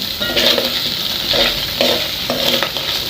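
A spoon stirs onions cooking in a frying pan, giving a steady sizzle with repeated scraping strokes roughly every second, close and fairly loud with no talking.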